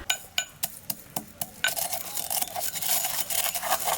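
Roasted, crunchy coriander seeds being crushed by hand, first a run of sharp cracking pops, then a continuous gritty grinding rasp, close up with no voices.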